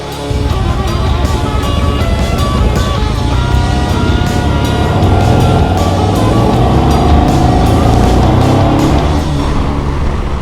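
A 2008 Triumph T100 Bonneville 865 carbureted motorcycle engine drones steadily while riding, loud and continuous with shifting rumble and wind noise throughout.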